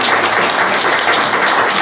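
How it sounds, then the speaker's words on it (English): Wedding guests at a countryside barn venue applaud together, a loud, continuous wash of clapping from a close crowd with no pauses over the short stretch. "round of applause."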